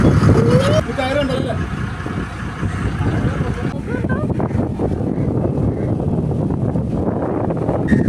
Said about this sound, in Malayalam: നല്ല കാറ്റുണ്ട്, ഒരു രക്ഷയില്ലാത്ത കാറ്റ്